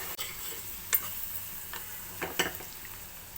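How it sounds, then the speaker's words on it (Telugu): Onions frying with green chilies, turmeric and salt in a pan, a soft continuous sizzle broken by a few sharp scrapes and clinks of stirring, close and quiet with no talking. "2 ఆనియన్స్, 4 పచ్చిమిర్చి, పసుపు, సాల్ట్ యాడ్ చేసి ఆనియన్స్ ఫ్రై చేయడం వల్ల మాడకుండా చక్కగా మగ్గుతాయి"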